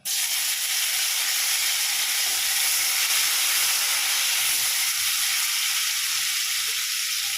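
A large chopped tomato drops into hot mustard oil with two dried chilies and a pinch of nigella seeds. A loud, steady hiss and sizzle begins abruptly and keeps going without a break.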